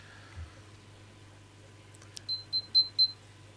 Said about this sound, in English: My phone made a new noise.